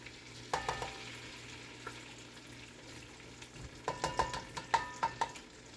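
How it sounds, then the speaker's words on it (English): Vegetable oil poured into melted butter in a pot for gumbo sizzles steadily, with a few clusters of sharp clinks and taps of a utensil against the pan standing out over the hiss. "put half a cup of this oil right into that butter"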